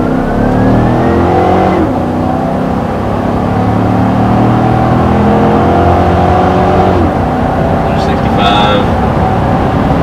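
A 2014 Chevrolet Silverado pickup accelerating hard, its engine droning and climbing in pitch through firm gear shifts from inside the cab, loud and continuous, with people talking over it.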